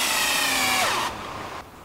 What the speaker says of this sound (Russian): Весь день на Петрова не замолкает звук пил и молотков.